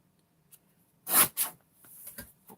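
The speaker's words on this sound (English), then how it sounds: "I'll be fancy today and use a trimmer and make straight lines." A paper trimmer slices through paper during a card-crafting demo, with two crisp, close swipes in quick succession followed by faint, light paper rustling in a quiet room.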